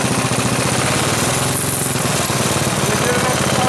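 A homemade go-kart, the Goofy Cart II, runs with its wheels on and its engine roaring loud and steady at close range, a rough, buzzing drone that holds without a break through the gear changes.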